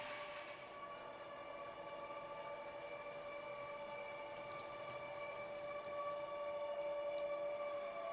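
A Hornby Class 803 Lumo model train runs with an HM7000 sound decoder, giving a steady electric whine with tonal hums that holds evenly throughout at a moderate level.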